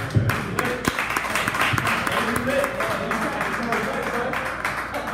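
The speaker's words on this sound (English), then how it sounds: "A round of applause." An audience at an evening barbershop talk gives a round of applause: scattered, moderately loud clapping with sharp individual claps, mixed with voices talking and cheering over it throughout.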